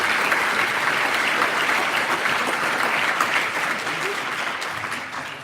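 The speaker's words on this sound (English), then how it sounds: "We have another huge round of applause for our two candidates, Tony Peckett and Mayoral Washington" A large crowd applauds for two Chicago mayoral candidates at a forum held at Malcolm X College, a dense, steady roar of clapping that holds loud and even before easing slightly toward the end.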